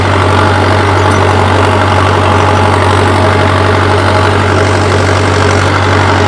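A tractor engine idles steadily while hitched to a cultivator in a farm field, a deep continuous rumble with a low throb that stays loud and even throughout, with no voices.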